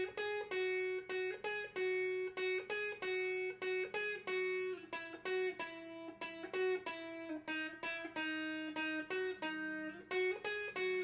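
An electric guitar plays a chorus riff, with a steady loop of plucked, ringing notes repeating in an even rhythm, fairly quiet and alone without any voice.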